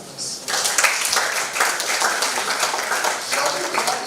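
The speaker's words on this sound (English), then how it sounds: "So we should give our panelists another round of applause" An audience at an artificial intelligence conference breaks into a dense round of applause that starts abruptly and holds steady and loud for several seconds, with scattered voices mixed in.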